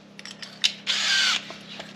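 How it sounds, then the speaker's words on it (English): A power drill with a 1.125 inch bit bores through a plastic tote lid: a short, loud burst of cutting whine lasting about half a second, framed by small clicks and handling knocks, close up with no talk. "we're just going to drill a hole right through this lid"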